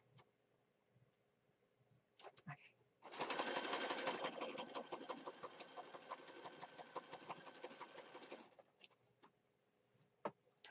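A freshly threaded sewing machine runs in one continuous burst of about five seconds, a close rapid rattling hum between quiet handling sounds before and after.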